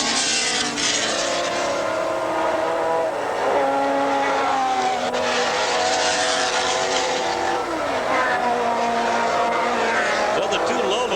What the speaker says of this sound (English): the two Lolas been racing each other while the Porsche Turbo is out there riding along by himself